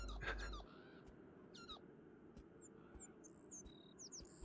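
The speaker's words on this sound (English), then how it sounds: "That's a bird." Birds in the video game Beyond Eyes chirp and call in short, bright tweets and whistles, scattered and fairly clear over a soft ambient background, with a brief louder sound at the start.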